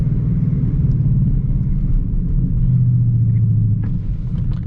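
Deep, loud exhaust rumble of a Ford Mustang GT with a C&L axle-back exhaust echoing through a tunnel, droning steadily with a slight rise near the end.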